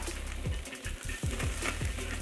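Frozen peas and carrots tumble into a hot wok for egg fried rice, bringing a steady close sizzle with a few soft knocks and rattles as they land and shift.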